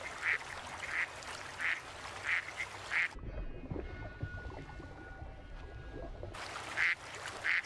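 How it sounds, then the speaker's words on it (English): Ducks quacking on water in the wild, with loud repeated quacks in a steady series, a quieter gap of low water noise in the middle, then more quacks returning. "The ducks are unaware of what lies beneath."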